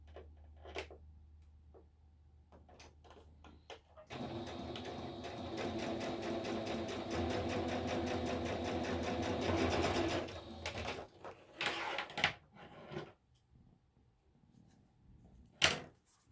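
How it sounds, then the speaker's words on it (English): A domestic sewing machine runs a quick straight stitch along the side of a sari silk fabric circle pocket, a steady continuous whirring drone of several seconds, bracketed by light handling clicks and taps before and after. "I'm just going to run a really quick line down this side just to give it a little oomph. I'm just going to do a straight stitch."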